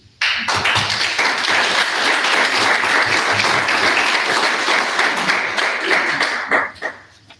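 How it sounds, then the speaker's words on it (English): Loud, dense applause from a large crowd at a candidates' forum that holds steady for several seconds and then tapers off quickly. "if you'll hold your applause"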